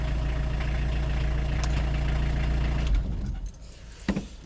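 A vehicle engine idles after a jump start, a steady low rumble that cuts off near the three-second mark, followed by a few faint metallic clicks and clinks in the quiet.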